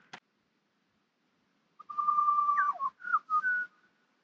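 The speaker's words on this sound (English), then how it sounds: "We can't hear any other noise than the bird in a distance." A single bird whistles a sustained tone with a few short rising and falling notes, faint and distant against otherwise quiet surroundings at a remote bush camp in Cape Range National Park, Australia.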